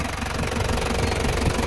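A Mazda Bongo with an R2-RF diesel engine idles steadily, a loud, continuous rumble with a fast, even knocking pulse and no voices.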